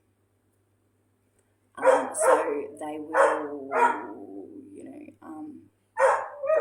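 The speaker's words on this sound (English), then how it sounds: "my dog barking right now is because I am in distress" A dog barks indoors in a few short, loud bursts, closely mixed with a person talking nearby.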